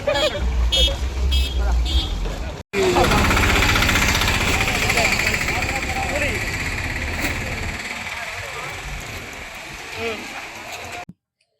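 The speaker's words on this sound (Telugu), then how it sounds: "మేమైతే ఇప్పుడు ఆటోలో వెళ్తున్నాము" Auto rickshaw engine on a ride toward the Arunachalam temple, a loud steady rattling drone close up with a horn toot, continuing for several seconds before cutting off, with people talking over it.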